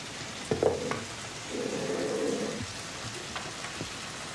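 A generous kilo of onions fries in bacon fat, giving a soft sizzle and crackle that briefly grows louder, with a few clanks of a utensil in the pan.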